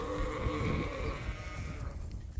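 Young ewes bleating on a sheep farm, a drawn-out wavering call that fades after a couple of seconds over steady farmyard noise.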